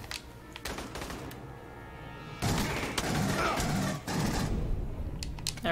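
Rapid gunfire bursts in the video game Aliens: Colonial Marines, a quieter rattle first and then louder, denser volleys with thuds, over continuous game noise.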